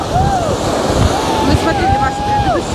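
Sea surf rolls in steadily under strong, gusty wind buffeting the microphone on the coast at Anapa, with a high whistling tone drifting across the steady roar.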